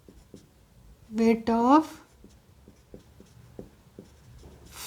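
A pen scratches across paper in short, soft strokes while a math problem is written out. A brief stretch of speech interrupts the writing partway through.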